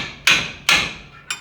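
Three sharp metallic hammer strikes ring out close by, evenly spaced, during front hub replacement on a 2015 Toyota Tundra.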